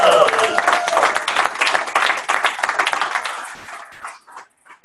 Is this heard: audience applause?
yes